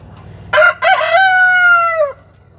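A rooster crows once inside a chicken coop, loud and close, a strained drawn-out call of about one and a half seconds over quiet background.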